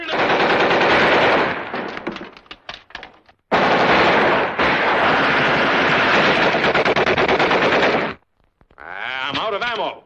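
War movie machine gun fire rattles in loud, sustained bursts with brief gaps, then trails off into scattered shots and a voice near the end.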